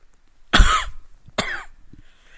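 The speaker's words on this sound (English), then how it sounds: "I just coughed." A person coughs twice, close and fairly loud: a harsh burst followed about a second later by a shorter second cough, with quiet between and no talking.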